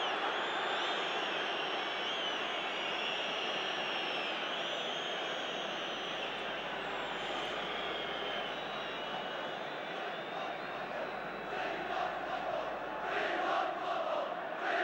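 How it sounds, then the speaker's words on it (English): A football crowd in a stadium at an Arsenal versus Manchester United match chants and roars continuously, a dense, steady wall of massed voices that swells slightly toward the end. "We want football, the crowd are shouting."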